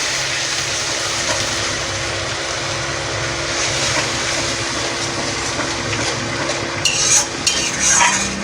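Spice paste for doi katla fish curry is stir-fried in a pan with a splash of water, a loud dense continuous sizzle with occasional scraping of the spoon, no one speaking.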